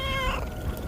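Cat meowing in a German horror video game, a single drawn-out tonal meow with clear harmonics over a low rumbling game ambience, fairly close and unaccompanied by talk.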